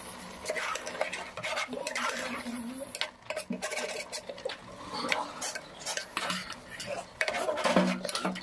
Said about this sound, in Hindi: अब इसमें एक चम्मच भरकर देसी घी डाल देंगे और अच्छे से इसको भूनेंगे